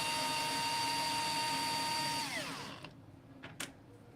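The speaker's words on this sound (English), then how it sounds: "you need to remove first of all these screws" Screws come out of a Growatt SPF 5000TL inverter under a power driver: a steady, close whine that winds down after about two seconds, followed by a few sharp clicks and taps.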